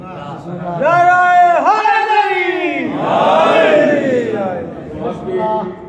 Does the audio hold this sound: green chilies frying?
no